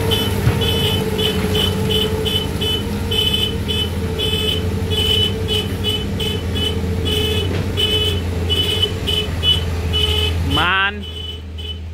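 A MAN truck engine rumbles loud and close with a steady low drone, while a repeated high beeping pulses over it; near the end the engine note sweeps upward and then cuts off abruptly.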